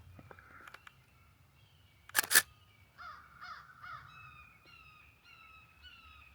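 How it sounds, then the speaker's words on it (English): A crow caws outdoors in a nature preserve, a series of harsh calls at middle distance after a sharp click, with faint background birds and no talk. "Oh, there goes the crow."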